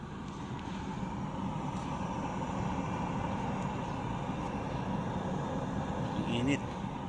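A Tesla car's cabin fan blower running by itself, heard as a steady, moderately loud broadband whoosh of air that continues evenly throughout, with a faint brief tone near the end.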